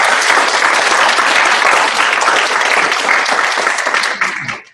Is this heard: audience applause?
yes